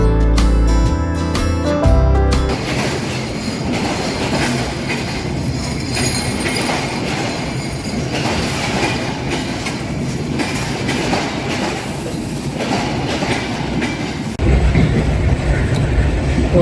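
Ekota Express pulling into a station, loud and close: a rolling rumble of railcars with steady clickety-clack over rail joints and brief wheel squeal, building again near the end with no voices.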